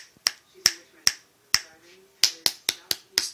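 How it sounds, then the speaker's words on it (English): Fingers snapping close by, about nine sharp, dry clicks in an uneven rhythm, some spaced about half a second apart and others in quicker pairs, with a faint low hum underneath. "I'm snapping my fingers"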